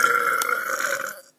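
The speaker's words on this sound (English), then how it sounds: "I haven't done these burping videos all summer." A single drawn-out human burp, steady and fairly loud, lasting about a second before cutting off abruptly, with nothing else around it.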